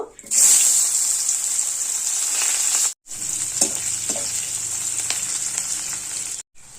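Onions, whole cumin and bay leaves hit hot oil in a pan, giving a loud, continuous sizzle with brief breaks, a few light stirring knocks on top.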